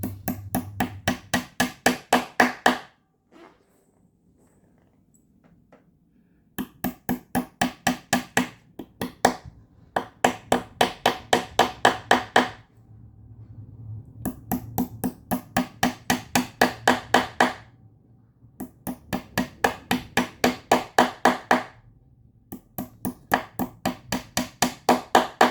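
Upholstery nails being hammered into a dining chair, close, sharp taps struck in quick rhythmic bursts of a dozen or so blows, separated by short pauses.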